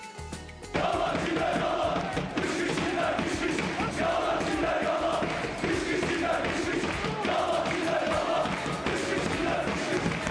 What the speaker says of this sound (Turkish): Gırtlakları koparcasına bağıran siyah beyazlı taraftarlar oyuncularını işte bu şekilde motive ediyor.